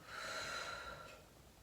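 A single slow mouth exhale during a gentle stretching session, a soft hissing breath that swells and tapers over about a second, close and quiet, with no voice over it.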